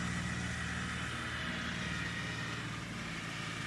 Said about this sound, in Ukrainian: японський міні-трактор з нею справляється на всі 100